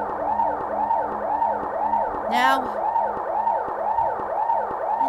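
Police sirens from the EarthBound video game wail in a steady repeating pattern, with a quick rising chirp midway and someone speaking briefly over the looping siren.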